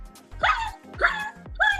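A dog gives three loud, sharp barks at a steady rhythm, close by and indoors, with no talk over them.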